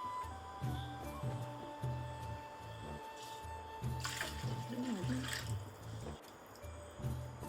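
Water is poured into a cooking pan over a fish head for a Kerala-style fish head curry, making a close, faint trickling and splashing with a rhythmic, pulsing low thud underneath.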